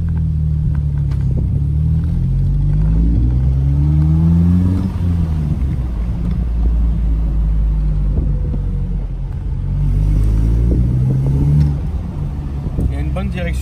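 A Ferrari Pista sports car engine accelerates hard, its note climbing through rising sweeps in two separate surges over a deep, loud, continuous rumble heard close up from inside the car.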